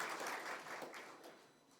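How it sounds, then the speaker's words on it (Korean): A church congregation applauds to welcome a newly arrived deacon during a Sunday service: soft, diffuse clapping heard from a distance, steady at first and then gradually fading away. "박수로 환영해 주시기 바랍니다."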